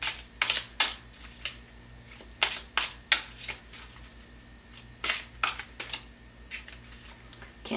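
A deck of tarot cards being shuffled by hand, a series of crisp riffling bursts and flicks in irregular clusters, close and fairly quiet over a faint steady hum.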